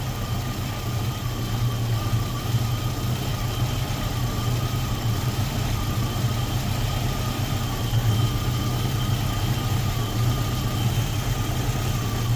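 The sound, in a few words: Datsun roadster EFI engine idling while idle valve adjusted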